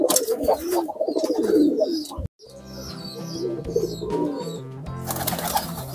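Pigeons entering a loft coo loudly and close, with layered cooing and rustling, a sudden brief cut to near silence, then more cooing and buzzing background; a voice talks at times.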